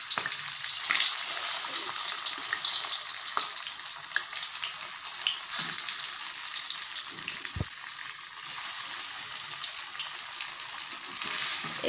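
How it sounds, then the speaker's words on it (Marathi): Coriander fritters (kothimbir vadi) fry in hot oil in a kadhai, giving a steady, close crackling sizzle that runs the whole time, with a brief clink partway through. "तेल गरम झाल्यानंतर यामध्ये आपण हे आता तळून घेणार आहोत"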